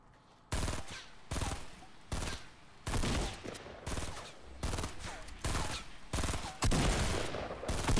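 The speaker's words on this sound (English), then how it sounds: "I'm shooting that geezer because I'm thinking that he's an enemy" Rapid bursts of gunfire from shooting in the Fortnite video game, with repeated loud volleys separated by brief gaps and no talking over them.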